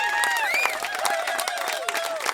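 An audience claps and cheers for a musician, with dense, steady applause and scattered whoops and shouts throughout.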